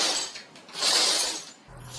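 Broken glass clinks and scrapes in an apartment as it is swept up, a couple of bright gritty bursts close by with no voices.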